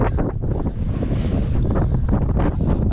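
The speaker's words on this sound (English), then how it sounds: "it is very windy" Strong wind on the mountain Ben Vrackie buffets the microphone continuously, a loud roaring rumble with gusty surges throughout and no voices.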